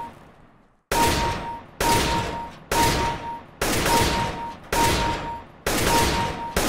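Repeated gunshots in CS:GO aim training, six sharp loud shots at a steady rhythm about one per second, each ringing out with a short tail, with no voices.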